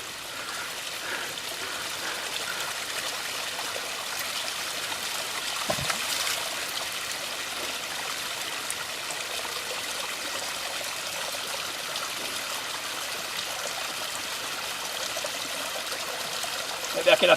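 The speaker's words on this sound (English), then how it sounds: "filling up his bottle" A bottle is filled from a stream during wild camping in Scotland, giving a steady trickle and splash of running water with a soft gurgle throughout.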